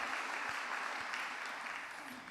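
Church congregation applauding the volunteers who cooked a shared meal, a steady, fairly faint wash of clapping that continues evenly through the short clip.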